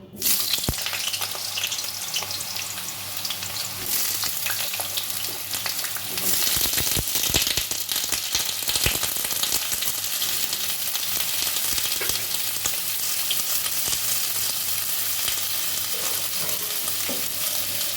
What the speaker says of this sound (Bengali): সর্ষের তেল গরম হয়ে গেছে, প্রথমে আমি আলুগুলো ভেজে নেব।